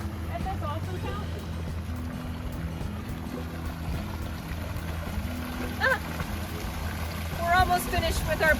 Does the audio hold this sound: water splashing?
yes